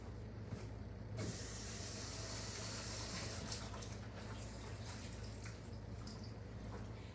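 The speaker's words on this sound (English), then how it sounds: "And wash my hands." Water runs steadily from a tap as hands are washed at a kitchen sink after cooking, a soft continuous splashing gush with a brief knock near the start and no talking.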